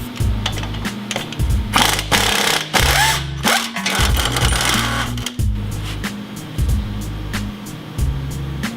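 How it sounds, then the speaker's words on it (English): A tool is working the lower bolt of a front shock on a Ford F250, giving loud, close, rapid mechanical rattling in bursts with brief pauses, over a low, steady machine hum. "I'm going to remove the lower bolt for your front shock."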